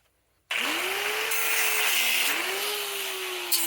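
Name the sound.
power tool cutting a wheel bearing hub off an axle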